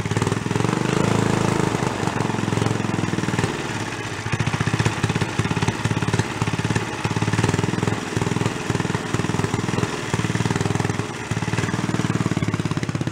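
The engine of a trashed, worn Rupp mini bike runs roughly up close, a loud, uneven, sputtering chug with steady rapid pulsing throughout.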